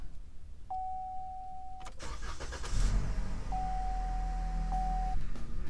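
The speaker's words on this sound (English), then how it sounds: "Now start it up and check it for leaks." A car engine cranks and catches after a starter chime, then settles into a steady idle that runs close and continuous, with another short electronic tone sounding partway through.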